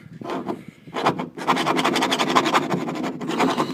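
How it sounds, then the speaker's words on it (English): A small hand file rasps against a part on a micro food truck build, giving close, rapid back-and-forth scraping strokes after a couple of short initial scratches. "Use a little hand file."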